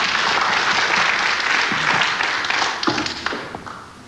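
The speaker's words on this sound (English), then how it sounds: "That shot appreciated by the crowd here at the Casino da Deauville" A crowd at the Casino de Deauville applauds an eight-ball pool shot, a dense, steady clapping that fills the room before thinning into scattered individual claps toward the end.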